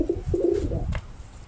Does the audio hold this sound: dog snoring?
no